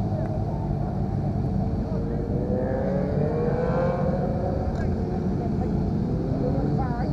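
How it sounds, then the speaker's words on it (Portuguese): A motorcycle engine and exhaust at a kart track in Guará, heard from a distance as a steady, moderately loud drone that swells and fades as the bike passes around the circuit. "Gostei do barulho do motor dessa. Escape show."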